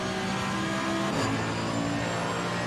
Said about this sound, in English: the Mercedes just sounds really weird